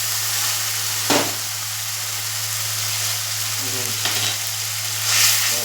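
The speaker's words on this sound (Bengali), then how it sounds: "ভালো করে মশলাটা কষিয়ে নেবো।" Ground spices frying hard in a pan for egg korma, a loud continuous sizzle with a few brief stirring scrapes and a steady low hum beneath.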